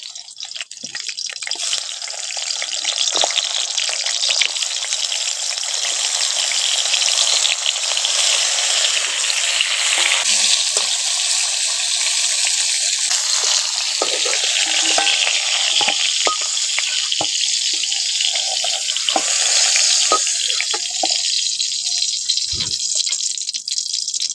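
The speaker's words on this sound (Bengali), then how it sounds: "এখন গরম তেলের মধ্যে পটলটা দিয়ে দিচ্ছি।" Pointed gourd (potol) frying in hot white oil in a wok, a loud, continuous crackling sizzle with bright spitting pops, steady throughout and briefly shifting in texture as the pieces settle.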